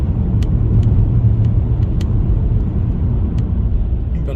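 A car driven on a road from Dundee towards Carnoustie, engine rumbling steadily and close as it picks up speed, with continuous road and tyre noise and no talk.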